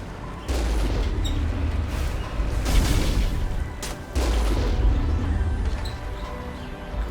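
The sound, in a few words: gunfire in the video game Mass Effect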